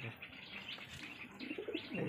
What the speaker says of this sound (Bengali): খুব ছোট সাইজের পায়রা